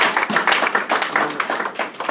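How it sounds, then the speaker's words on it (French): A church congregation applauds in quick, dense, irregular clapping that fills the room steadily for a couple of seconds. "Les acclamations à Dieu."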